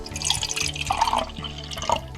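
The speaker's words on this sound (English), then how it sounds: "I'm going to measure half a cup of hydrogen peroxide. So I'm going to open that, and I'm going to pour half a cup," Hydrogen peroxide pours from a bottle into a measuring cup with a spout, giving a steady liquid trickle with glugging, splashy bursts, heard close and alone for about two seconds.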